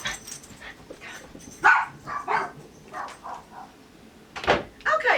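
Small puppies bark and yip in short bursts several times, fairly close and loud, with gaps of quieter room noise between outbursts.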